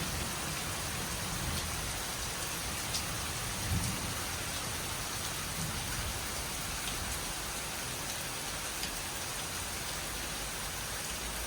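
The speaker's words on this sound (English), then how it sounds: "I don't know if you can still hear it. I think you can. The thunder." Heavy rain pours steadily during a thunderstorm on Koh Samui, Thailand, a dense even hiss throughout, with a low thunder rumble swelling briefly near the middle.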